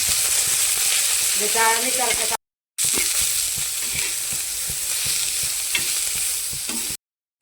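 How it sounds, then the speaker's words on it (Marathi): Onions fry in a pan with a steady sizzle while a spoon stirs and taps repeatedly against it, close up; a voice is heard briefly early on, and there are two short gaps of silence. "घालून घेते कांदा ते टाकते कांदा भाजायसाठी"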